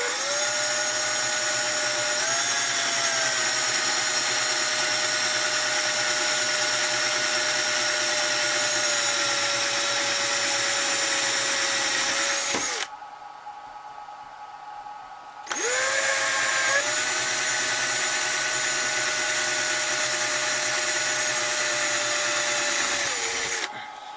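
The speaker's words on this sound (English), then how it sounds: "we're going to just go ahead and drill right through into those 2 marks that we just made" A power drill bores through marked spots on the sliding canopy of a Ziroli Texan model plane, running loud and steady for about twelve seconds, stopping briefly, then drilling again for several more seconds, with no talk.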